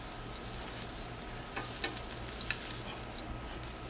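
Beef filet frying in oil in a pan, a steady, fairly quiet sizzle with a few small pops and crackles rising above the hiss.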